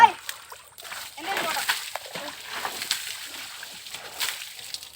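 Water is scooped and thrown over a car during washing, making close, irregular splashes and sloshes that recur for several seconds, with people talking over them.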